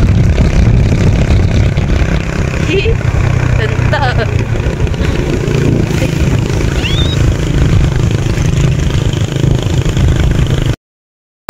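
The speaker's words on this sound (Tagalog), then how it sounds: "Na nakangkas na naman sa motor." A motorcycle on the road into town, carrying a pet named Tuntun on board, gives a steady loud engine drone with wind rush throughout, while a person calls out briefly over it.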